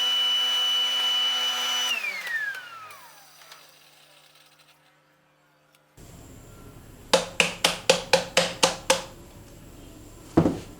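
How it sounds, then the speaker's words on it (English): A workshop dust collector roars through its pipe before winding down to near silence, then restarts with a lower rushing flow, punctuated by a quick series of sharp knocks and a final bang near the end. "I suck the dust from this end"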